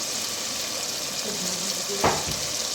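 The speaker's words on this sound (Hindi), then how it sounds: "तो अब इसको भूनेंगे, साथ मसाले ऐड करेंगे।" Tomatoes and spices frying in a pan for kadu chana dal give a steady, close sizzle, with a brief louder stir or scrape near the end.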